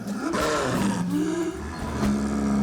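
A leopard caught in a trap roars in The Witcher 3, a loud series of deep, rough snarling roars that rise and fall, close up with no speech.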